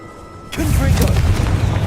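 A spell blast in the Hogwarts Legacy video game, a sudden loud booming burst that hits after a quiet moment and rumbles on for over a second.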